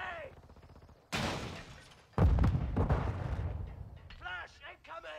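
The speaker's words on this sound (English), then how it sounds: "Grenade!" Two heavy grenade blasts in Call of Duty: Modern Warfare II multiplayer on the Mercado map: a sharp burst, then a louder, deeper boom with a long rumbling tail, while game voices shout callouts over the gunfire.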